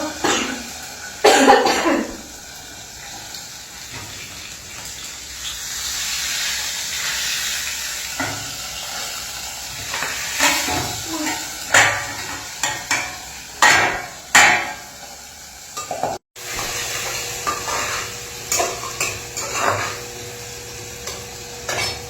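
Fish frying in hot oil, an uneven sizzle broken by loud, irregular pops and spatters from the pan, with some sharp bangs and a cough-like burst in between.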